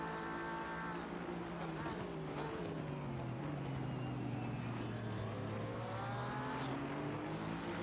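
A race car engine in a sim racing video game drones steadily throughout, its pitch rising and falling as it runs through gears with a faltering, hiccuping note, moderately loud with no talk over it.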